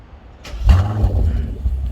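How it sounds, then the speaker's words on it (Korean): A BMW G12 760Li V12 with a full variable exhaust from mid-pipe to tips cranks and fires, bursting into a loud, deep rumbling idle that holds steady close by. "걸 때부터 역시 12기통다운 소리가 나옵니다"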